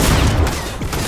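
Dense gunfire from the video game Fortnite, loud and saturated, a continuous barrage of overlapping shots and booms filling the whole moment with no clear voice on top.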